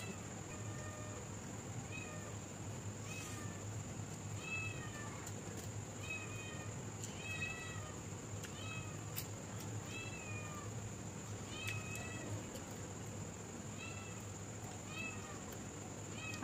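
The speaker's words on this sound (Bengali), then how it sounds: "গন্ধ পেয়ে বিড়াল চলে এসেছে" Two cats drawn in by the smell of steamed hilsa served with rice on a lotus leaf meow repeatedly in short, clear calls over a steady background hum.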